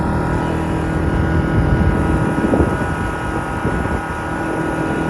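A Biltema inverter generator runs nearby with a steady, loud, dense engine drone that holds an even level throughout, with no talking.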